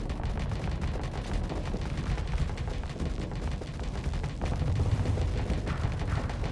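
Space battle weapons fire in a video game, with fighter squads and an escort ship as missiles are shot down: dense, loud, continuous rattling bursts of gunfire and blasts that run throughout without a pause and with no talking.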